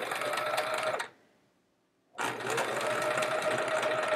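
A sewing machine stitches rows of a chevron quilt in a fast steady whir. It stops for about a second, then runs again, with no talking.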